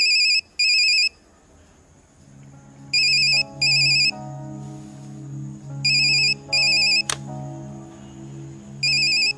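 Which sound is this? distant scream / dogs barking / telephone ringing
telephone ringing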